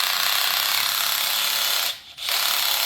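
A power drill's clutch clicks in a rapid, even ratchet as a screw reaches the set depth, loud and close, cutting out briefly before resuming.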